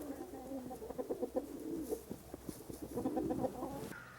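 Pigeons coo in repeated low, throaty bursts inside an abandoned bunker site in Ljubičevo, Serbia, a steady scatter of soft calls at moderate distance with faint ambient rustle and no talk.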